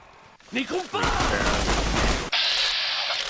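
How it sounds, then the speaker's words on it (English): Gunfire in the video game Fallout New Vegas: a loud dense burst of shots and impacts that fills the middle of the clip, preceded by a brief vocal sound and followed by a steady hissing tail. "I'm just going to try to move away from you, Mr. Salty Wounds, and try to get a shot on you"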